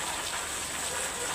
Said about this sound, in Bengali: বৃষ্টি কমে গেছে